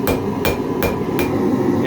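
A hammer strikes hot metal on an anvil at the forge, four loud, close, ringing blows spaced evenly about every 0.4 seconds, each over a steady background hum.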